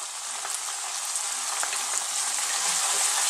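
Spice powders such as cumin, coriander, turmeric and chili sizzle in a hot frying pan, a close, steady crackling hiss that holds evenly throughout.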